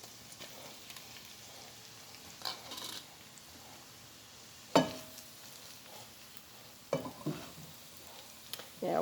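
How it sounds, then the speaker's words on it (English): Polish sausage frying among sautéed onions in a pan, a faint, quiet crackle with scattered sharper pops and clinks from stirring over a low background, no talk. "fry these Polishes in these onions"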